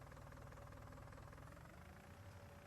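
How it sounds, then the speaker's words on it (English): A steady, low diesel engine rumble from a small Fiat tractor in Farming Simulator 19, with a rough diesel knocking throb, continuous and fairly close, with a faint tonal hum above it. "Has a great sound, that diesel knock."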